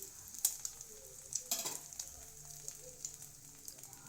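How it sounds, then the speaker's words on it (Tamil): Eggs cracked into hot oil and fried until browned for egg noodles, giving a quiet steady sizzle with a few sharper crackles and pops, heard close with no talking. "ஒரு முட்டையாக உடச்சி அந்த எண்ணெயில் போட்டு அந்த முட்டைகளை நல்லா கொஞ்சம் செவக்க வறுக்கணும்"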